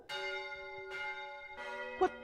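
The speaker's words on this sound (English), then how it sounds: "Ring the alarm bell, murder and treason." A stage alarm bell strikes three times in an even, spaced rhythm, each ring decaying slowly, with a brief clink near the end and no talk.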